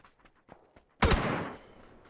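A single loud gunshot blast in PLAYERUNKNOWN'S BATTLEGROUNDS cracks out after a few faint taps, then rings and decays over about half a second, with no talking over it.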